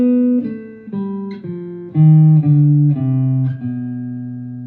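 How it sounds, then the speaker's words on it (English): Jazz guitar runs through a B altered scale, about eight clean single notes plucked one after another at a moderate, even pace, the final note ringing out, close and alone. "And this is gonna be a B altered scale"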